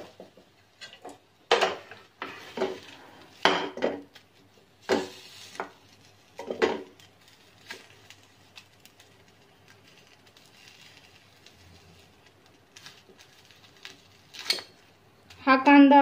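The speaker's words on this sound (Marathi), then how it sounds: "आणि या कढईमध्ये आपण भाजलेला कांदा थोडा परतून घेऊया।" Roasted onion being sautéed in a kadhai for a Maharashtrian amti, with intermittent close metallic clinks and scrapes of stirring, sharp clatters separated by quiet gaps.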